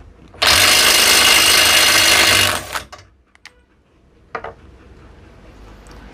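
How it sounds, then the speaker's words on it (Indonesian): Bosch GDR 120-LI 12 V cordless impact driver driving a screw, a loud continuous rapid hammering burst for about two seconds that cuts off, then quiet handling noise and a brief short second burst, with no talking. "Tentu fungsi utama dari impact driver ini untuk penyekrupan, bukan membuka baut."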